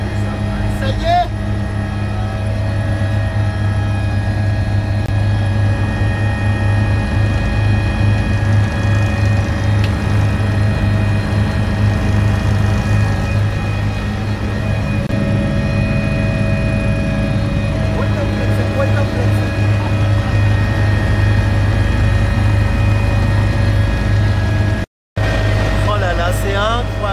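A small aircraft takes off on a safari flight, its engine droning loud and steady throughout, heard from inside the cabin with brief talk over the noise.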